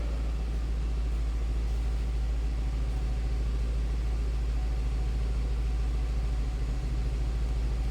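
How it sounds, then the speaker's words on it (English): Stock 2002 Ford Thunderbird convertible idling, heard from behind at the exhaust: a steady, low, even rumble that holds unchanged and alone for the whole stretch, with no voices over it. "Slip around to the back first so you can hear it run."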